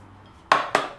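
A frying pan and spatula clank together twice in quick succession, two sharp, bright metallic knocks close by after a quiet pause, the second slightly softer.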